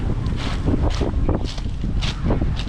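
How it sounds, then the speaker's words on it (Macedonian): Wind blowing by the sea on a morning shore in Bar, Montenegro, roars in gusts and buffets the microphone, with wave wash mixed in and no speech. "јутрово е малку со повеќе ветар"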